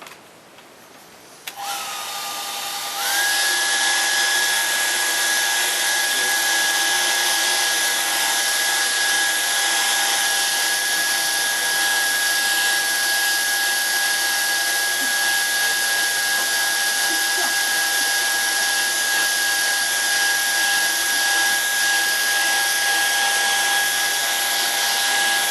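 A hair dryer blows over a wet watercolor painting, switching on after a quiet start and then running loud and steady with a constant whine for the rest.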